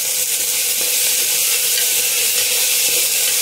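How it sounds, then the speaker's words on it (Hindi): Daliya (broken wheat) roasting in hot oil, a steady loud close-up sizzle and hiss that runs evenly without pause. "दलिया को मैं 1 मिनट भूनूंगी तेल में"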